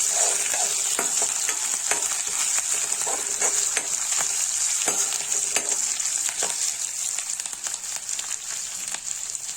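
Chopped garlic and ginger frying in hot oil in a pan for a vegetable thali, a steady loud sizzle with scattered crackles and occasional stirring taps throughout.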